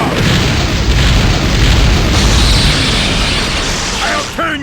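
The Raikage's Liger Bomb attack explodes in Naruto Shippuden: Ultimate Ninja Impact as a loud, sustained booming blast that fills the whole span, with a shouting voice breaking in at the end.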